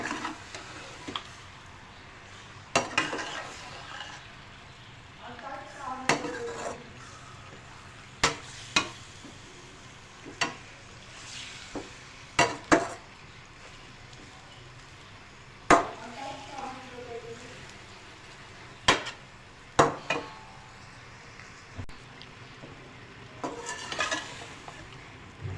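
Chicken gizzards frying in turmeric oil in a pan: a low steady sizzle runs throughout, broken by sharp scraping clinks as a utensil stirs against the pan every few seconds.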